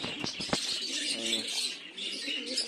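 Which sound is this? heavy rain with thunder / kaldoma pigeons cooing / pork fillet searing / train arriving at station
kaldoma pigeons cooing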